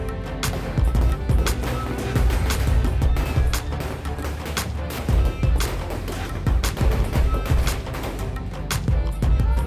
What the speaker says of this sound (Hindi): इसमें थोड़े से हमने पटाखे भी बजाए हैं